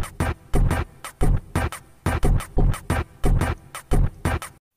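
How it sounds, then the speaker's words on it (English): A hip-hop drum kit beat with boosted bass and added reverb plays in punchy, regular hits for several seconds, then stops abruptly, with no talk. "It's a hip-hop kit, so we gotta turn up the bass. Let's add some reverb, and here's a drum kit."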